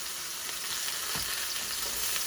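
Vegetables for glazed salmon sizzle steadily in a hot pan while being stirred, a close, even hiss with a few light scrapes, no speech.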